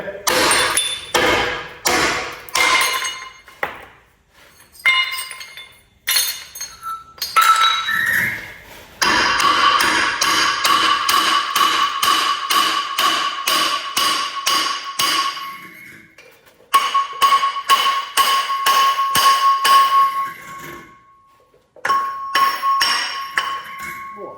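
A hammer taps rapidly and repeatedly on metal during engine repair on a 100-year-old Austin 7 car, ringing sharply in fast bursts with short pauses between runs.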